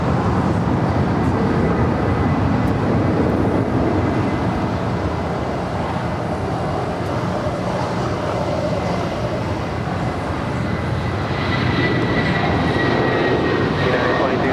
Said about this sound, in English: That's that United 787-9 Dreamliner coming in from Tokyo